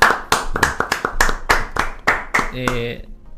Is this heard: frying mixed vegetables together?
no